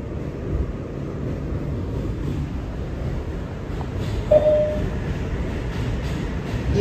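An R211A New York City subway train on the IND Rockaway line rolls along with a loud, steady rumble and rattle, a brief squeal of metal partway through, and no talk over it.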